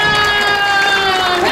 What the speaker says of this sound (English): Let's have a round of applause for the Beastmaster and the Beast.